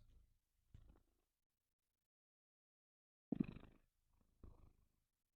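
Low purring from a cat comes in a few short, rumbling bursts separated by silence, fairly faint and close, with no talking.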